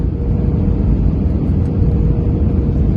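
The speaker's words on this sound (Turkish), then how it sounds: "Şimdi uçak iniş yapıyor." Cabin of a passenger airliner landing at Istanbul Airport, a loud steady low roar and rumble of engines and airflow, constant with no voices.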